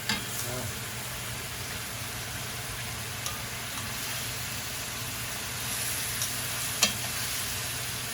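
Pork saltimbocca frying in a pan at home gives a steady low sizzle and crackle throughout, with a few faint clinks from handling, loud and close with no talk over it.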